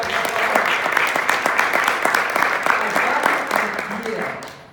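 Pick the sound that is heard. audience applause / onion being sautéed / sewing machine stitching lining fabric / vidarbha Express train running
audience applause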